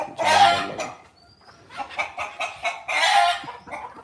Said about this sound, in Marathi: एकच कोंबडा आणि बाकी कोंबड्या